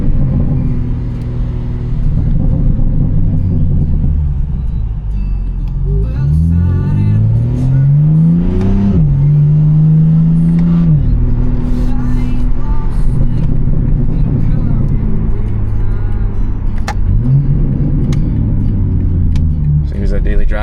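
A BMW G80 M3 in M mode with the sport setting on, driven on the road, with a steady deep engine rumble that rises in pitch during several acceleration pulls, heard from inside the cabin.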